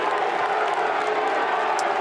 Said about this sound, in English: Crowd in full voice